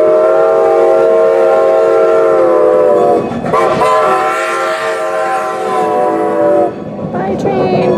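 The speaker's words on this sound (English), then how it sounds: "Oh, and there's the train." A train rolls past at a corn maze attraction, loud and near, with a sustained horn blast followed by rumbling cars and faint clatter.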